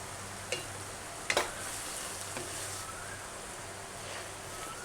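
Shrimp frying in a pan give a faint, steady sizzle, with a few quiet knocks and scrapes as the pieces are turned over.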